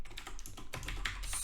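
Fingers type quickly on a computer keyboard, producing a steady stream of close, soft key clicks with no talking.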